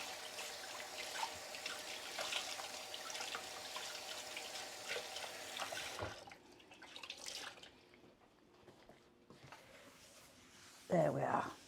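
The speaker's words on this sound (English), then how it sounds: "So let's give this a quick wipe and brush myself down. Wash my hands at the same time." A tap runs in a kitchen while hands are washed beneath it, the water splashing and trickling fairly quietly for several seconds, then dripping, with someone talking over it.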